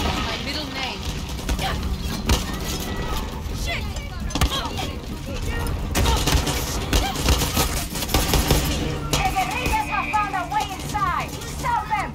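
Gunfire in the video game Far Cry 6 crackles in dense, rapid volleys through a busy battle mix, with a voice talking over the shots throughout.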